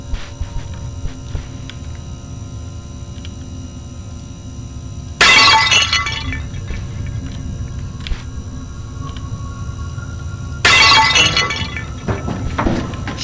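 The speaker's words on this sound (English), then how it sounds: "I have the hammer, so I'll smash everything" A hammer smashes glass objects in the video game Inside the Backrooms. Two loud, separate shattering crashes sound over a constant electrical hum.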